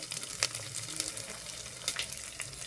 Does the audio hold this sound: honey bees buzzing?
no